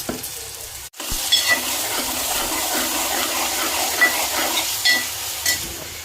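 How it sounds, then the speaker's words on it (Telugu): Onions and green chillies hit a hot pan and sizzle steadily right after a brief cut, with stirring scrapes and small clinks close by and no voices. "ఉల్లిపాయలు పచ్చిమిర్చి వేసేస్తున్నాము"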